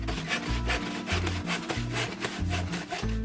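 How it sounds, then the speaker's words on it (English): A hand saw cuts through a wooden board outdoors in a garden, with rhythmic back-and-forth rasping strokes, close and steady, no voices. "My craft blades won't cut through that, so it's out to the garden with the saw."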